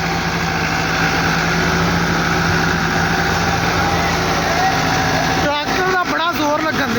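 A tractor 385 engine labors hard while pulling a stuck trolley, a loud, steady droning roar held throughout with a rhythmic throb, and voices briefly rising over it near the end.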